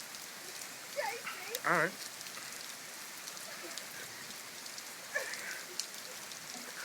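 Steady rain falls and patters on surfaces outdoors, a soft continuous hiss throughout, with a few brief voices talking over it.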